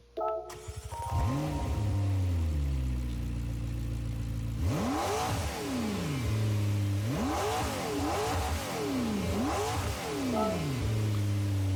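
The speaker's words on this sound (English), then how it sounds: "we'll listen to the startup sound," In Gran Turismo 7, the V8 of a 2010 McLaren MP4-12C cranks and fires, then settles into a steady idle. Three sharp throttle blips follow, each rising and falling in pitch.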